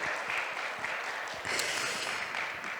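Audience applause for a presenter at a statistics agency workshop, a steady dense patter of clapping hands lasting a few seconds at moderate distance, with no voices over it.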